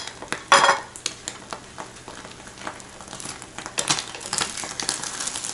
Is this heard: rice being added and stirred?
yes